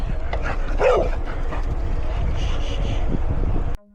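Dogs bark and growl outdoors in strong wind, several loud close yaps mixed with rumbling wind noise and a brief exclaiming voice.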